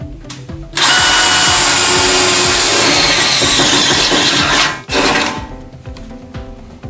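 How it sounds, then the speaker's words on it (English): A power drill bores through a steel panel, a loud continuous grinding whine lasting several seconds that cuts off abruptly, with a brief restart and tapering noise at the end. "First, drill your panel."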